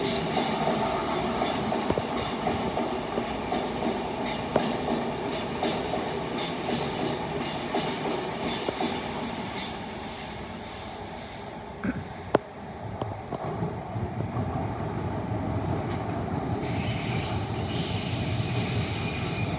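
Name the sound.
Class 390 train passing, to Birmingham New Street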